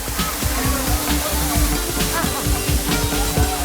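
A waterfall at Sringeri thunders close by, a dense, steady roar of falling and splashing water that fills the whole scene without pause.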